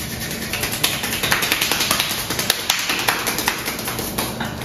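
A handheld chitki clapper toy rattled fast, producing a rapid, even stream of sharp close taps that keep going without pause, no talking.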